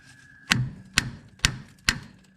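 Four hard metallic whacks struck on the front shock strut assembly of a Nissan Sentra during repair, evenly spaced about half a second apart, close and loud with brief ringing.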